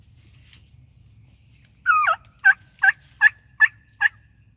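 Wild turkey toms gobble during a spring turkey hunt: one long rolling gobble followed by five shorter, evenly spaced gobbles, fairly close and clear over a low, steady outdoor rumble.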